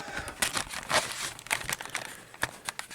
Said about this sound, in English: let's cut up some cardboard